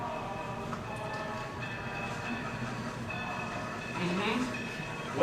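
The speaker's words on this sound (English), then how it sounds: "I bet if we held our breaths, we could hear the train all the way to Kentucky." Distant train as a stage sound effect in a school production of Our Town, a faint steady rumble with a brief rising whistle-like tone near the end, heard quietly under the room's hush.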